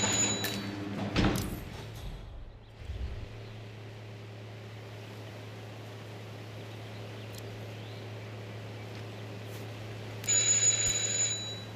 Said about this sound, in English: All right, just ring the doorbell.